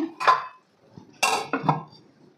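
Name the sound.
lid placed on pot while frying chana dal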